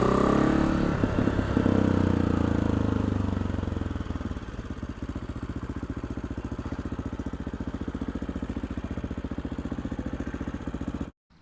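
The tuned single-cylinder engine of an AJP PR7 motorcycle runs loud and close, first revving hard and then settling into a rapid, steady thumping before it cuts off abruptly.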